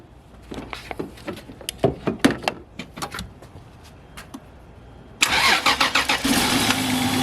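Toyota Crown fitted with a big-turbo 2JZ engine in NA-T form: a run of sharp clicks and cranking taps, then the engine catches with a sudden loud, rough roar that keeps running close by.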